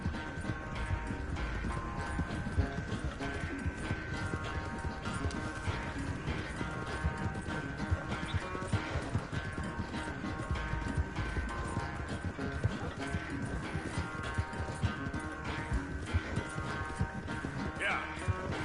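Horse hooves clip-clop in a steady trotting rhythm in Red Dead Redemption 2. The hoofbeats are continuous and fairly quiet under game ambience.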